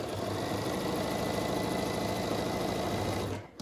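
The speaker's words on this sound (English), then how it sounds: "I'll just flip it and then sew on the other side." Sewing machine stitching quilt block pieces for a pie-themed block, a fast, even mechanical whirring rattle running steadily up close, then stopping abruptly at the end.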